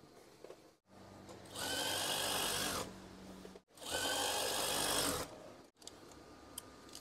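A sewing machine stitches a folded swag curtain hem in two sustained runs of steady, fast whirring, each about one and a half seconds long and separated by quiet handling pauses, heard close with no talking.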